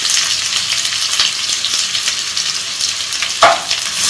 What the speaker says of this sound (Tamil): வெங்காயம் நல்லா கோல்டன் ப்ரௌன் ஆகிற வரைக்கும் வதக்கணுங்க